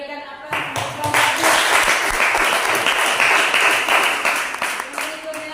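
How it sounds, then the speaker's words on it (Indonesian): A classroom group of students claps for a presenting student group, a dense burst of applause lasting several seconds after a short lead-in. "kita berikan aplaus untuk kelompok"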